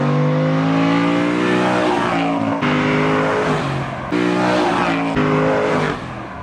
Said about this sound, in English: A standard Aston Martin V8 Vantage is definitely not the worst sounding car in the world.